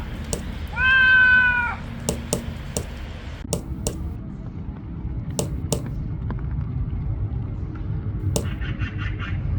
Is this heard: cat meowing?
yes